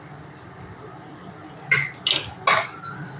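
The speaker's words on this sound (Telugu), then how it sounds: "కొబ్బరి కారం వేసుకొని మిక్స్ చేసుకుందాం." Ivy gourd fry with coconut chilli powder is stirred in a pan, a quiet lull giving way to a few close, sharp scrapes and clinks of the spoon against the pan near the end.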